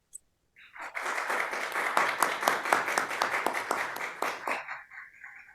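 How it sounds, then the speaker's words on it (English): A small group at a Toastmasters meeting claps together: a burst of individual hand claps with audible separate strikes, lasting about four seconds before tapering off. "Let's give ourselves a round of applause for our"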